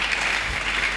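Church congregation clapping at a Sunday sermon, a brief dense wash of applause heard on its own.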